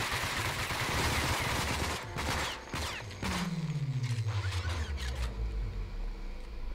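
A turret opens fire in a video game: loud rapid bursts of automatic shots crowd the first seconds, then a falling mechanical whine and a fast regular clatter follow, close and steady.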